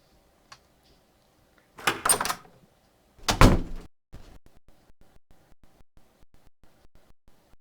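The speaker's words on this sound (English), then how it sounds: "we're gonna open the door and go inside" A door in the Project Silence game demo thumps and creaks open in two loud bursts after a faint click, followed by a long run of soft evenly spaced footsteps or taps.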